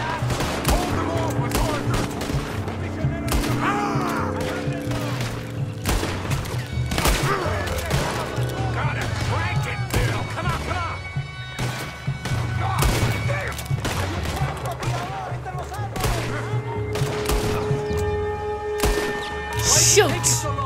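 Rapid bursts of gunfire from the Western action game Red Dead Redemption 2, with repeated sharp shots and volleys crackling over a busy background of game music and noise, loud and near throughout.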